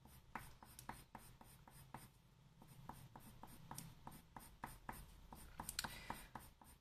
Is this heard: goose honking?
no